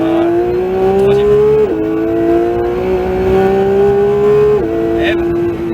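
A Porsche 911 GT3 (992) accelerates hard on the Castellet race track. The loud, close engine note climbs steadily and drops briefly at two gear changes before pulling up again.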